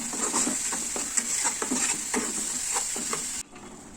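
Onion paste fries in a pan, a steady close sizzle with repeated scraping stirs from a spoon throughout, cooked until it loses its raw smell, no voices.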